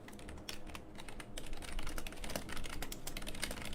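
Rapid typing on a computer keyboard with a couple of faulty keys, a steady stream of close, crisp key clicks continuing throughout, with no voices.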